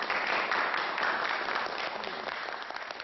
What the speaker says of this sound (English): There'll be more applause.